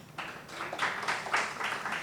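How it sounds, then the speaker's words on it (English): Audience applause at a tech startup summit in Bengal, a burst of steady clapping from a crowd that swells and holds evenly throughout, moderately loud. "I think it requires one more round of applause,"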